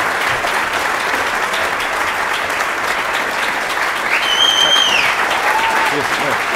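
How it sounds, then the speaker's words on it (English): Sustained audience applause fills a hall as a soccer club's head coach and technical director is introduced, steady and dense throughout, with a couple of faint whistles cutting through near the end. "So please give a round of applause for Peter Vermes."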